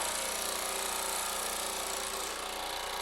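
A Baileigh PH-19 power hammer starts up and runs with a steady, dense mechanical hum and broadband clatter, loud and continuous for a few seconds with no talking.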